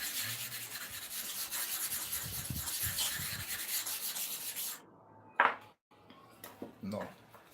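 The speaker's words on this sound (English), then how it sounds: "Now, we want to sharpen it." Clipper blades are rubbed back and forth on an abrasive surface for sharpening, a steady gritty scraping that stops abruptly, followed by a few clinks and light handling sounds.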